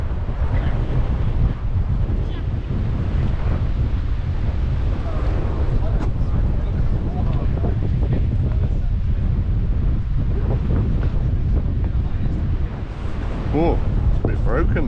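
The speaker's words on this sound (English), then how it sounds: "Very windy" Strong wind buffets the microphone throughout while kayaking across the Pontcysyllte Aqueduct near Llangollen, a constant loud rumbling roar with faint voices underneath.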